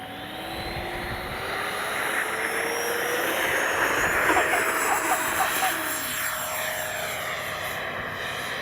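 A FMS F-16 64mm electric ducted-fan RC jet spooling up and taking off, a steady high whine that rises, swells and then recedes into the distance over outdoor background.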